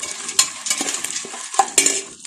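A spoon scrapes and clinks in a pot as washed sago is stirred into melted jaggery and milk for ada payasam, in a few uneven strokes close by with no talking.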